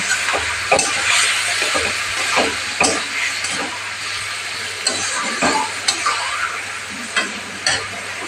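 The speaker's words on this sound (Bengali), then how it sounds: "পরিমাণ মতো হলুদ দিয়ে লাউটাকে একটু কষিয়ে নিতে হবে" Chopped bottle gourd sautéing with turmeric in a hot pan, a steady loud sizzle and hiss with repeated scraping stirs of a spatula, close up and with no talking.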